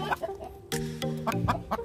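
Native free-range hen on a Philippine farm clucking in short, close, throaty bursts, several soft calls followed by louder repeated clucks, with no speech.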